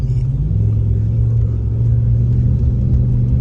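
Ram 1500 pickup with the off-road package, in two-wheel drive, accelerating hard on slush and ice during a winter snowstorm; a loud, steady low engine rumble that rises slightly in pitch, close and continuous with no talking.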